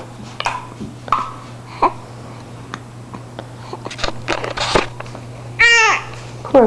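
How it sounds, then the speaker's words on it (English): A young girl hiccups in short, sharp catches scattered through a quiet indoor scene, with a louder squeal near the end and soft babbling between them. "You got hiccups?"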